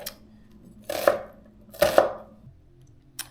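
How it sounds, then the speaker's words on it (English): A knife rough-chops shallots on a cutting board, two separate bursts of crisp, close chopping strokes with quiet pauses between them and no talking. "It doesn't have to be a fine chop. It will just be a rough chop."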